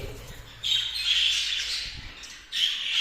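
A caged bird squawks in loud, harsh bursts while being caught and handled in a breeding room, one long squawk followed by another, close and alone.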